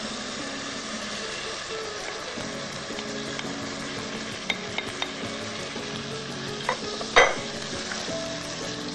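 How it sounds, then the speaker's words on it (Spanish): Pheasant thighs and onion sauté in a pan with a steady sizzle, broken by scattered clinks and scrapes of stirring, including a sharper metallic scrape near the end. "Seguimos rehogando."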